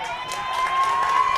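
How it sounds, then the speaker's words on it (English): A Lake Travis baseball crowd cheering and clapping at a high school game, a brief swell of applause and shouts heard from the broadcast position, with a steady tone running underneath. "As the silent Lake Travis crowd all game finally comes alive,"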